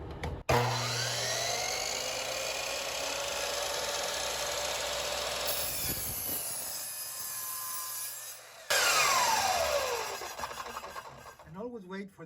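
A power saw with a whining blade cuts through pieces of wood, close and loud in two long passes with a brief break between them, the blade winding down at the end.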